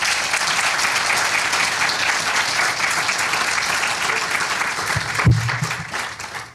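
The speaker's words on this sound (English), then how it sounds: "I would want to ask for another round of applause for our inaugurating professor." An audience at an evening inaugural lecture gives a sustained round of applause for the inaugurating professor. The dense, even clapping fills the hall, with a brief thump near the end as it fades out.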